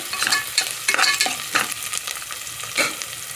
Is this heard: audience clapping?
no